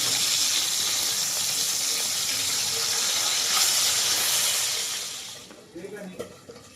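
Half-fried pomfret hisses loudly in a pan as masala fish fry cooks, a steady broad sizzle that holds for about five seconds before fading, followed by a few softer clinks and spatters.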